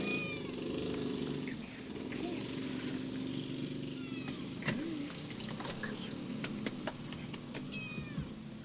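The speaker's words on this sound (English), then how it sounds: "You hear her meowing?" A cat meows a few times amid steady background rumble and kart engine noise at a go-kart race, with some faint talking mixed in.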